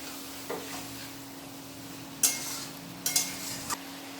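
Quiet sizzle in a wok under a low steady hum, broken by a few sharp scraping stirs of marinated mutton being sautéed.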